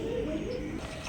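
A pair of red Bombay pigeons coo softly and steadily, a low continuous burbling close by with faint background hiss and no talk.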